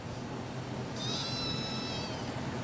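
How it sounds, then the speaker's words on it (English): A single clear cat meow lasting about a second, fairly close and heard over steady background noise. "Why are you meowing?"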